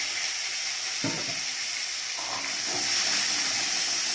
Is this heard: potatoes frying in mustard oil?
yes